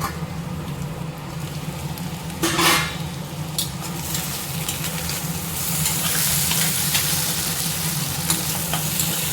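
Potato masala fries and sizzles in a pan, a steady close crackle running the whole time, with a few scrapes and clinks of a spoon stirring through it.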